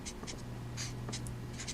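Pen writing out a math equation: a series of quick, light scratchy strokes in irregular bursts, close and distinct over a steady low background hum.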